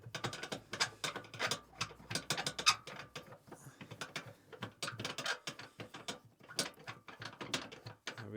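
Kiravans swivel seat mechanism being turned inside a VW campervan, giving a run of close, quiet mechanical clicks and ratcheting knocks in an irregular rhythm, with no talk.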